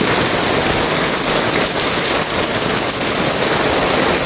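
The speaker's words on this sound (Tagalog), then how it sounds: "Lakas ng ulan." Heavy, steady downpour roaring continuously over a flooding sidewalk market, dense and loud with no breaks.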